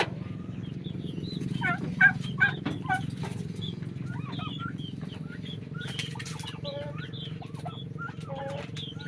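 Pet turkeys gobble and chickens cluck in a yard, with a flurry of overlapping calls and a rattling gobble near the start, over a steady low hum throughout.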